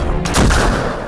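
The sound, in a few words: gunfire from Pakistani army at Line of Control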